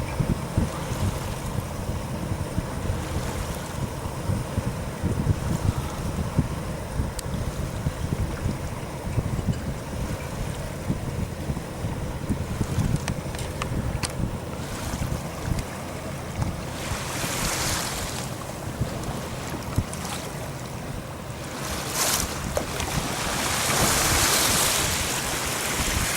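Steady wind and breaking waves wash around a racing sailboat at the start of an ocean race from Darwin to Ambon as a sea breeze sets in, with continuous roaring gusts buffeting the microphone and a louder surge of wind near the end.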